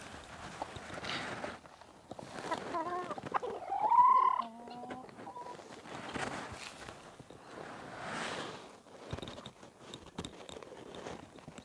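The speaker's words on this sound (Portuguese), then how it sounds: "mais um dos meus galos é esse daqui" A free-range breeding rooster on a Brazilian farm gives a few clucks and short calls amid scattered bird sounds and faint footsteps, fairly quiet and close.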